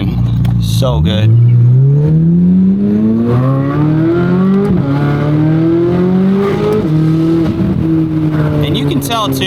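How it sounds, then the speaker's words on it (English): A Corvette C8 Z06 convertible accelerates hard with the windows down, its loud engine rising through repeated upshifts over wind noise and a raw induction roar, with a brief voice near the start. "there's just a ton more noise coming through when you put those windows down"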